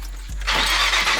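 A Nissan 350Z is cranked and fires up, a short starter whirr followed by the engine catching into a loud, rough idle roar close by.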